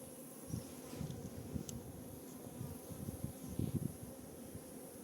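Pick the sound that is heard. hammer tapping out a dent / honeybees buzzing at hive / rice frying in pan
honeybees buzzing at hive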